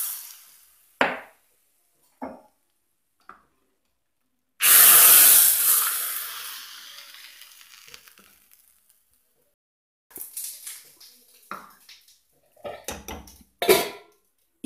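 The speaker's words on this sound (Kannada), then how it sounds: "ಒಗ್ಗರಣೆ ಸೇರಿಸುವ." Hot tempering poured into boiling sambar for a Mangalorean veg thali, a loud burst of sizzling hiss that slowly fades over a few seconds, with scattered clinks of utensils before and after.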